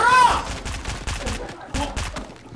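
Rapid bursts of gunfire in the Fortnite battle royale, sounding as fast repeated shots with a few sharp hits, mixed with game sounds and heard under excited talk.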